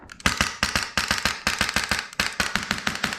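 A custom Polarstar Kythera airsoft gun empties its magazine in quick strings of sharp, close pops fired in rapid bursts with tiny gaps, keeping up a steady chattering rhythm to the end.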